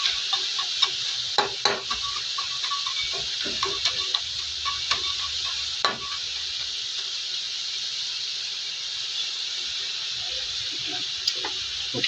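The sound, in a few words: kikiam frying and sizzling in a pan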